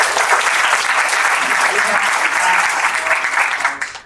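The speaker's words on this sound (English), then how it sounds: "Give them a warm round of applause" A warm round of applause from the audience at an anniversary celebration for a children's assessment center, dense and steady before tapering off at the very end.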